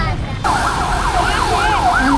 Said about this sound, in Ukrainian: Ще одна пожежна поїхала.